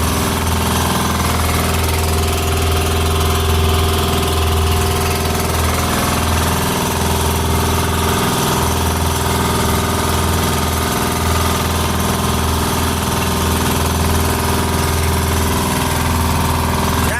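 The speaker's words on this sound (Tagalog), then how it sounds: "Isang makina pa lang yung pinagagana namin pero may takbo na siya." A loud, steady fishing boat engine drone with a low throbbing hum runs unbroken throughout, no voices heard.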